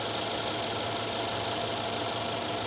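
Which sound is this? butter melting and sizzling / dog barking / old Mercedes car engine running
old Mercedes car engine running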